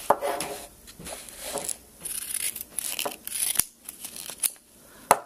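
Leatherman Raptor shears snipping through tough fabric such as a gown, giving a run of crisp, irregular cuts and rustles up close with no talking.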